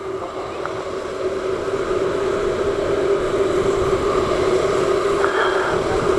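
Micro F2 race cars lapping the oval at Cowdenbeath Racewall, a steady distant engine drone with a broad noise wash and a faint commentator's voice underneath throughout.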